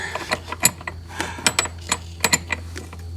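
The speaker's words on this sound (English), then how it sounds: "We're using a little fancy wrench I got at the dollar store." A small dollar-store line wrench works on a fuel line of a 1991 Honda Civic, giving a quick run of sharp metallic clicks and ratcheting ticks, close and fairly loud over a low steady hum.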